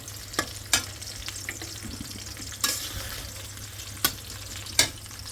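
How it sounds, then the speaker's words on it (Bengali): Onion frying lightly in a little oil: a steady low sizzle runs throughout, broken by a handful of sharp scraping clinks as it is stirred, close and fairly quiet, with no talking. "পেঁয়াজটা হালকা তেলা ভাজা দিতেছি"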